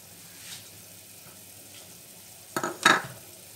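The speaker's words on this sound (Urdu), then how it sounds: "تڑکے کے لیے تیل جو رکھا ہے اس میں یہ پیاز اور لہسن ڈال دوں گی" Onion and garlic hitting hot oil for a dal tempering: mostly quiet at first, then a short, loud sizzling burst with some stirring clatter near the end.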